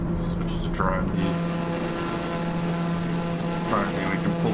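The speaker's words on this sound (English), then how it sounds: "Drone view, we can pull back a little bit and get less engine noise." A light aircraft engine drones steadily in Microsoft Flight Simulator 2020, a continuous loud propeller hum heard from outside, with someone speaking over it.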